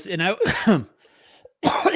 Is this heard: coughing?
yes